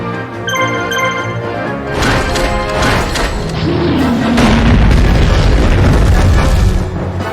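Anti-ground guns in the video game Yu-Gi-Oh! The Falsebound Kingdom fire in a rapid stream of loud booms and blasts, rising into a sustained roar of explosions mixed with game music and a brief voice.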